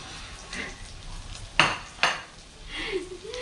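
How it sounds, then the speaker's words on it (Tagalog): Dishes and plates clatter in a home kitchen while cooking salmon in bell pepper, with two sharp clinks standing out over a low background of faint kitchen noise. "kukuha lang ako ng pinggan"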